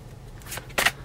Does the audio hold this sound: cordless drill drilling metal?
no